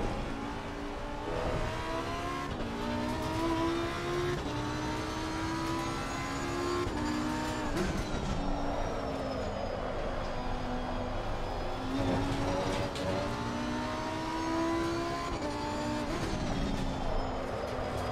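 A Lamborghini race car in a racing video game revs hard through repeated gear changes, its engine whine climbing and dropping over and over as it drifts through a corner, loud and continuous, with no talking over it.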